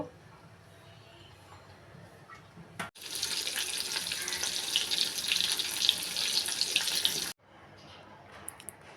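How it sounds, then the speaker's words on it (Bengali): Katla fish being washed under a running kitchen tap: a close, steady gush of water lasts about four seconds, with quiet handling noises before and after. "এদিকে কাতলা মাছ ধুয়ে নিলাম"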